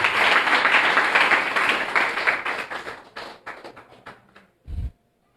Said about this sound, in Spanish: No sé si le puede dar un fuerte aplauso a usted, Señor.